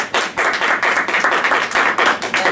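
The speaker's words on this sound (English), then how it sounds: "give a round of applause for him" An audience at an entrepreneurship talk gives a round of applause, a loud, continuous wash of many hands clapping with brief swells and dips, no one speaking.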